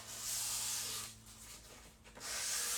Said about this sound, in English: And we're only sanding the front.